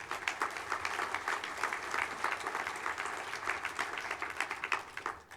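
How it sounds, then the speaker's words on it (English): Another round of applause for Dr. Premuk at a conference session on compassion and race, an audience clapping steadily with slight swells, fairly soft and somewhat distant. "let's give Dr. Premuk another round of applause"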